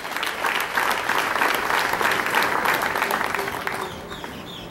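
A crowd at a civic ceremony in Papantla breaks into sustained, dense applause, loud and even for several seconds before easing off slightly toward the end.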